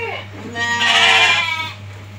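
A single drawn-out bleat from a breeding sheep on a farm, loud and near, with steady background hum and faint voices.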